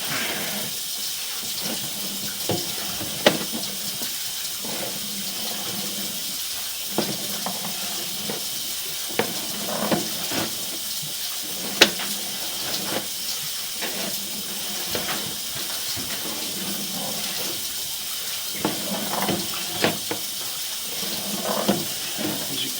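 Water runs steadily through a residential drain pipe past a sewer inspection camera sitting just above the bottom, a constant close hiss with faint scattered clicks and knocks.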